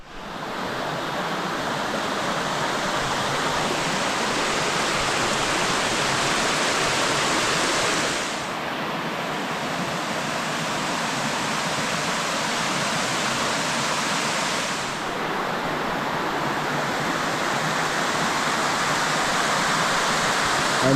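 A waterfall near Neath, Wales, roars as a loud, constant rush of falling water that stays steady and broadband throughout, with no voices over it.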